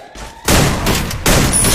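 A sniper rifle fires in the mobile battle game Free Fire: two loud, heavy blasts close together, each with a sustained ringing tail and no voices.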